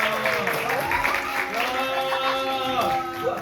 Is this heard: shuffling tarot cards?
no